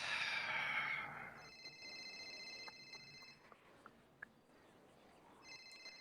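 A phone rings with steady electronic tones in repeated bursts, fairly faint and set against quiet background noise after a brief louder rush at the start.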